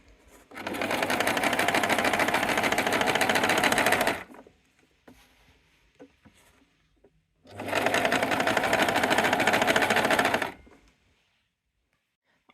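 Sewing machine stitching a sweater made from a scarf, two loud steady whirring runs of about four and three seconds, separated by quiet handling of the fabric.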